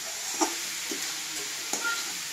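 Fried chicken stirred in a frying pan with a spatula for a tomato chicken dish, soft scraping strokes at a slow irregular pace over a steady oil sizzle, close and fairly quiet, no talking.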